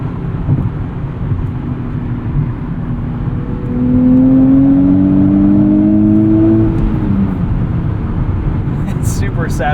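A 2023 Nissan Z turbo engine climbs into boost, a rising whine and growl that swells louder midway through a continuous cabin drone with no talk.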